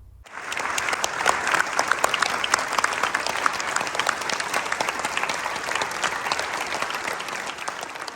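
A crowd at an RV club customer appreciation rally bursts into loud, sustained applause after a brief quiet start, many hands clapping steadily throughout.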